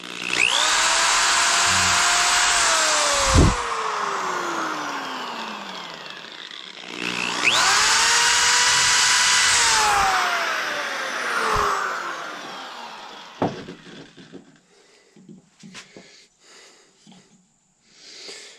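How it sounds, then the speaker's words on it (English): A power drill drills a hole in a powder horn in two long, steady bursts, whining up and winding down each time, followed by scattered knocks and handling noises. "And then I'm going to drill"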